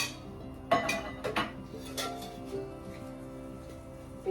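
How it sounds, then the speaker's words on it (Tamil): Pan set onto a stove, a couple of close metallic clanks and a short rattle near the start, then a quieter steady background hum. "ஸ்டவ் பற்றி வச்சுட்டு இதில் ஒரு பாத்திரத்தை வச்சுக்கோங்க."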